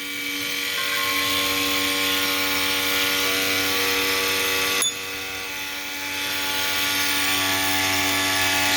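A homemade electric kayak motor with a machined propeller spins in open air outdoors, a steady high-pitched tonal whine that dips briefly mid-run before climbing back up.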